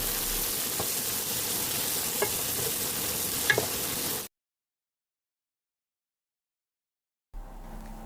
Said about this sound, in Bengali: এরপর পেঁয়াজ কুচিগুলোকে বাদামি কালার করে ভেজে নিব।